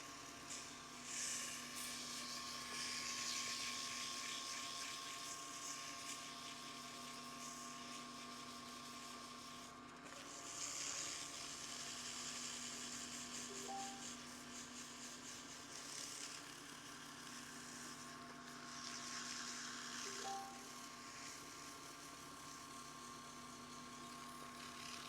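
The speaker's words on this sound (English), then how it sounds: "That's the paint that's being sanded off as we're refining this pen." A sander works paint off a Dragon Scale Fordite pen blank being refined on a lathe, giving a steady, close motor whine with a gritty abrasive hiss that swells and eases over the long pass.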